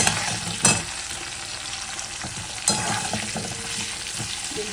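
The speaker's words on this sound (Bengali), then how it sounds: "আরও এখানে বেগুন ভাজা হচ্ছে" Eggplant and potato pieces fry in a pan with a steady close sizzle, broken by two louder scraping bursts of stirring, and no one speaks.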